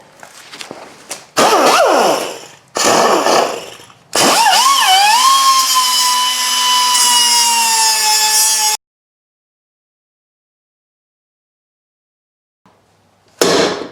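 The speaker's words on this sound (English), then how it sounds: "Just grind enough of that face of that off." A power tool grinds the face off a 2001 Ford Sport Trac door latch. Short loud bursts come first, then a sustained high whine that dips in pitch and holds steady before cutting off into silence, followed by a brief final burst.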